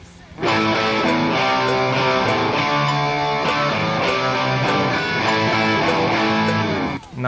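Distorted electric guitar power chords doubled by a layer of single root notes, a thick, sustained riff that starts after a brief pause and plays steadily, loud and alone, to a sudden stop.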